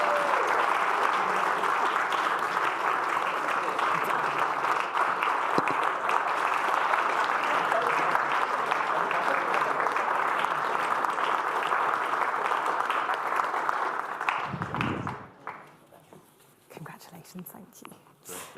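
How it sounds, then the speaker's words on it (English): A demo day audience applauds loudly and without a break for about fifteen seconds, then the clapping quickly dies away to quiet room noise. "So keep that applause going"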